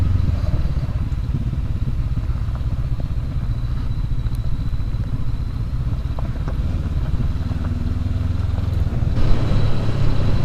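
A 2019 Honda CB500X ridden over loose gravel, its engine droning steadily while tires crunch and clatter on the stones, with a louder surge near the end.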